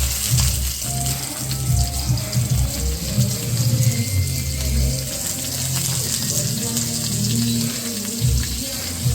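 Chopped onions drop into a hot oiled pan and fry with a steady, dense sizzle that continues evenly throughout, close and moderately loud, with faint clatter of a spoon or pan.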